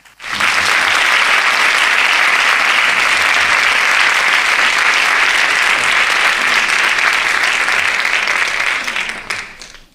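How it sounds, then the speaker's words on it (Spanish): Sustained audience applause fills a literature lecture hall to welcome the speaker José Antonio Marina, a loud, dense wash of clapping that holds steady for about nine seconds before tapering off. "recibamos con un fuerte aplauso al protagonista de hoy, a José Antonio Marina"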